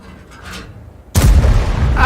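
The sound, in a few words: tank gun firing shot in a tank video game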